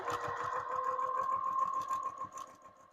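A sewing machine runs steadily during free motion quilting, stitching through quilt layers and batting with a fast, even mechanical chatter that holds close and constant for the whole stretch, easing slightly at the end.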